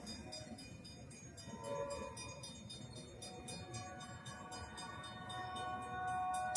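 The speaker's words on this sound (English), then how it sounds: "Whoa, two horns at the same time." Two AERC train horns sound together, blaring long sustained overlapping tones from a moderate distance over the rumble of passing rail cars, with the horn blasts swelling louder toward the end.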